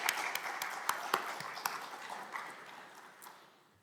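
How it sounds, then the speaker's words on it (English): A small church congregation claps in a round of applause, a brief, moderately quiet patter with a few sharp individual claps standing out before it thins and fades away. "I really think we need to give Kathy a round of applause"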